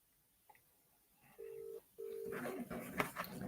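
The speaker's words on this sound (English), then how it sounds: "let me first of all phone Al Louis" Telephone dialing and line tones on a call into a radio talk show: a click, then two steady beeps in a row, followed by louder line noise and crackle.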